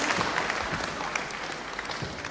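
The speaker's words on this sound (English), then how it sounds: "I'm sure Brian Crabtree will ask for a special applause here." Applause from a wrestling audience after a televised bout that ended in a draw, a dense, steady patter of clapping that fills the hall for a couple of seconds without a voice over it.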